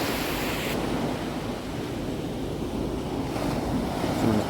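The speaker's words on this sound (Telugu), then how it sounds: "సో ఎర్లీ మార్నింగ్ నేను అంజనా బీచ్కి వచ్చాను" Ocean surf rolls in steadily at Anjuna Beach in North Goa in the early morning, a continuous broad wash of breaking waves with some wind noise on the microphone and no voices.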